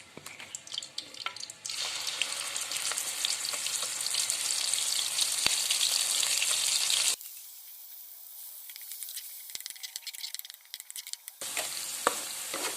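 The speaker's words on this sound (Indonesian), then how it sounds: "Bumbu sudah halus. Selanjutnya kita oseng." Ground spice paste for a banana blossom stir-fry sizzles and hisses loudly in a pan while being stirred, then drops to a quieter crackle before the sizzle rises again near the end.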